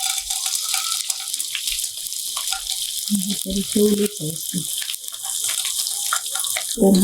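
Edible gum (dink) fries in ghee in a pan for laddoos, giving a continuous bright sizzle with crackling pops, while a voice talks intermittently underneath.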